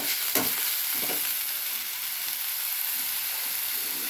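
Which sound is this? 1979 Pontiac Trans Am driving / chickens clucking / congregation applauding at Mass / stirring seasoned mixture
stirring seasoned mixture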